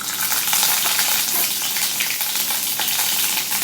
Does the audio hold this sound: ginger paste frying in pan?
yes